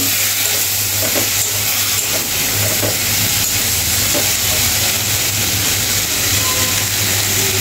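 Vegetables with salt and slit green chillies being stirred and sautéed in a pan, a steady loud sizzle with scraping stirs and a low hum underneath, no voices.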